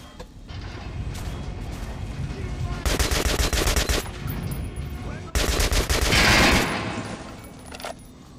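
Bursts of rapid automatic gunfire from Metro Last Light come in two long volleys over a steady background of game noise, loud and close.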